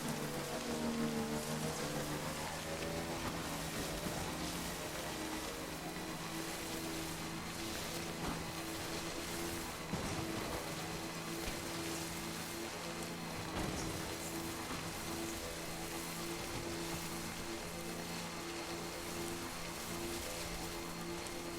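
Steady rain pours down in the video game Death Stranding, a continuous dense patter with a low rumble beneath, unbroken throughout with no voices.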